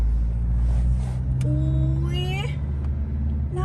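A 2020 Isuzu 1.9 pickup truck rolls slowly around a shop with a low, steady engine rumble, while someone talks over it throughout.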